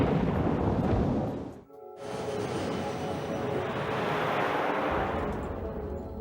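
Deep rumbling thunder and heavy storm noise roar loudly, broken by a brief near-silent gap before the low, sustained rumble resumes for several seconds, as an airliner on approach heads into a severe thunderstorm.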